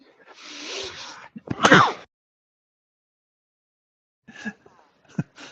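A single loud, sharp sneeze bursts out after a breathy intake, followed by silence and a couple of faint rustles.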